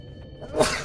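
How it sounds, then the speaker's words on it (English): A single short sneeze bursts out near the end after a brief quiet breath, close and fairly soft. "I need a sneeze"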